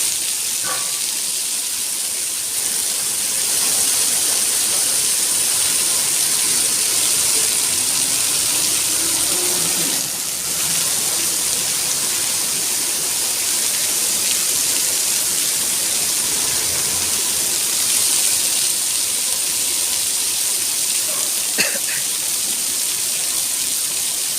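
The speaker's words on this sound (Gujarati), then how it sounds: "તો મિત્રો જોરદાર વરસાદ આજે સારો પડી રહ્યો છે" Steady, loud rush of heavy rain pouring down without pause in Morbi, Gujarat, a dense hiss with a few faint knocks and no voices.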